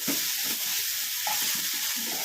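Garlic, shallots, green chilli and curry leaves fry in a pan for Kerala-style drumstick thoran, with a steady close sizzle and repeated scraping strokes of a spoon stirring, without speech.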